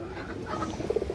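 Ring-eyed pigeons give a short, soft coo, a few low pulses clustered near the end of a brief stretch of close, murmuring background.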